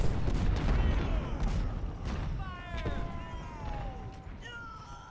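Cannon blasts in the Civil War strategy game Ultimate General Civil War, with booming artillery shots over a battlefield din and someone talking over the noise.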